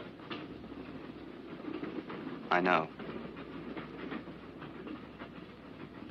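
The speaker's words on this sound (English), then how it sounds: "Last train." Train running on rails, a steady rumbling clatter of wagons at moderate distance, with a short voice heard briefly over the noise.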